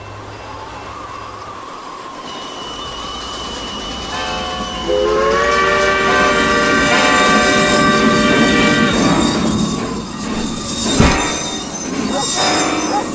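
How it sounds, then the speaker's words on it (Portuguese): A moving train runs from the station toward Serra Talhada, its steady rumbling rolling noise swelling as a long multi-tone whistle sounds in the middle, followed by a sharp clank. "o trem em movimento que vinha da estação em direção à Serra Talhada"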